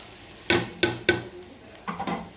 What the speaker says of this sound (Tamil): இதை நம்ம வெறும் கடாயிலே போட்டு நல்லா வறுத்துக்கணும்